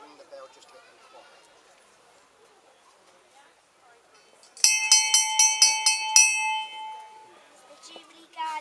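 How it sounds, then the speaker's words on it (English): A hand bell rung outdoors at a jubilee celebration to quieten a crowd, a loud burst of rapid clanging strokes lasting about two seconds and ringing out, after a stretch of background chatter and voices. "I'll ring the bell just to get them quiet"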